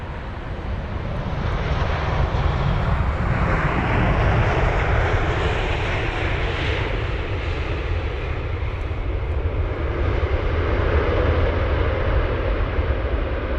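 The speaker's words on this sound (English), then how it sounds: "That's 787-10 Dreamliner of United Airlines from Los Angeles LAX." A United Airlines Boeing 787-10 Dreamliner arriving at London Heathrow from Los Angeles, with a loud, broad jet engine roar that swells and slowly fades as it passes, heard alone without talk.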